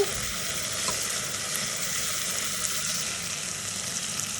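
Onions sizzle and fry steadily in a hot pan. The crackle is dense, even and loud, and it continues throughout without a break and without speech.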